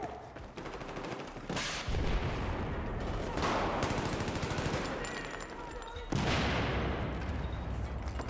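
Sniper and automatic gunfire in the video game Warzone, with sharp loud shots bursting out at roughly two, four and six seconds, each trailing into a rattling burst and decay over constant game background noise.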